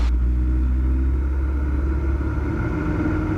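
Small single-engine airplane powering up for a touch-and-go takeoff, its engine a steady, loud, close droning rumble that holds throughout with no pauses, and no talk over it.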